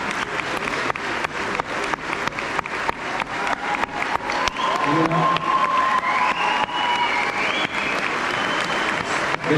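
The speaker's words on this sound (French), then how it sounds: "qu'on les applaudisse très fort" A festival audience applauds the teachers, the clapping quick and rhythmic and fairly close, building to a fuller crowd sound with a few cheers and faint voices mixed in.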